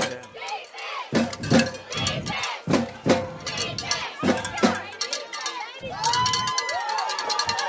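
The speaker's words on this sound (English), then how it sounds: "Love the enthusiasm I'm sure people can hear in the background with the defensive chants by the band" A large crowd chants in rhythmic bursts of shouting, then swells into sustained cheering and yelling, loud and echoing as at a stadium.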